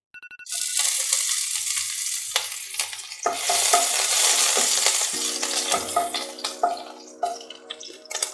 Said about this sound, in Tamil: ஃபர்ஸ்ட் நம்ம பொடியா நறுக்குன பச்சை மிளகாவை சேர்த்துக்கலாம்.